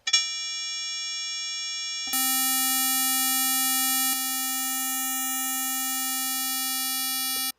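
A Zebra 3 software synthesizer holds a steady, quiet buzzy tone with harsh aliasing overtones, shifting pitch and brightness at two points before cutting off abruptly.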